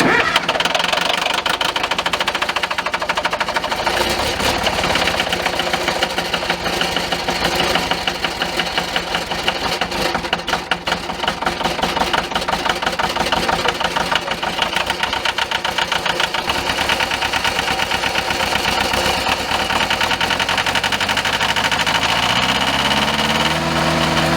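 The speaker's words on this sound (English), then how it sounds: "I'm going to put a video, a startup video, or, kind of a sound clip." A straight-piped Bobcat 825 skid steer with a 3-inch stack and a bad exhaust leak starts and settles into a loud, steady, rough idle with a knocking mid-frequency rumble that runs close and continuous throughout.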